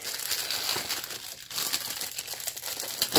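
Plastic wrapping being torn and crinkled off a Blu-ray case, a steady close rustle and crackle that runs throughout with brief tearing bursts and no talking.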